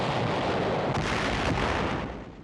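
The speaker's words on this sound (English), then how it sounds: "Tanks blast Jap positions in the hills outside the city." Tanks fire on enemy positions in hills near Naha, Okinawa, in 1945, a dense rumbling barrage of heavy booms with a couple of sharper blasts, loud and sustained before fading at the end.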